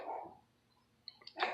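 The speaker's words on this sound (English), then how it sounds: "That's the house dog." A house dog gives a couple of faint, distant barks indoors, short and separated by quiet, with a louder muffled noise at the start.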